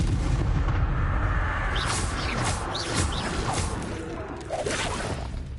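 Incendio fire spell cast in Hogwarts Legacy, heard as loud whooshing, crackling bursts over a dense rumbling background, several blasts following each other closely.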